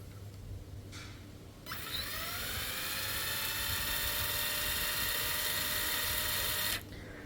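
A cordless brushless impact driver, model DCA ADPL208, spins at its low speed setting, around 1100 RPM, with a steady high whir that starts abruptly, holds for about five seconds and cuts off.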